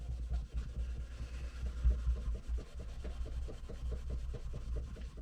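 Steel wool rubs back and forth on curly maple knife scales, a quiet and close rhythmic scratching with soft repeated strokes.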